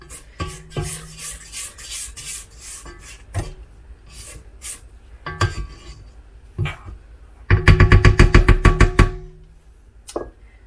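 A spatula scrapes down the sides of a mixing bowl while holiday baking, making intermittent rasping strokes and knocks that end in a fast, loud run of rhythmic scrapes, with no talking.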